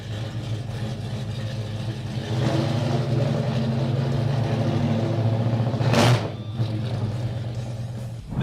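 A rumbling 1969 Pontiac GTO muscle car engine with low harmonic drone, swelling louder partway through and briefly surging, steady mid-pitched growl throughout.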